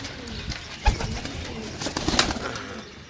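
Pigeons coo and rustle close by at a bird sale in Sarai Alamgir, Pakistan. Soft, irregular calls come with a couple of sharper bursts, over low background noise and no talk.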